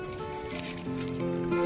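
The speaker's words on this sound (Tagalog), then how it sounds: "Akin na po susi nyo." Metal keys jingle and clink softly as they are passed from one hand to another indoors, a brief faint rattle with a light ringing tone and no speech over it.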